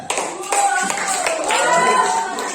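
A classroom of students claps together in a lesson about zakat, a burst of dense, overlapping applause close by that carries on steadily for a couple of seconds alongside a few raised voices.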